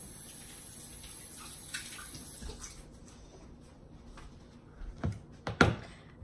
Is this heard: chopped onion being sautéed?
no